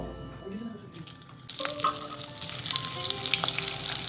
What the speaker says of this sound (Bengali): এখন আমি যে রোলগুলো বানিয়েছিলাম এইগুলো এক এক করে তেলে দিয়ে ভেজে নেব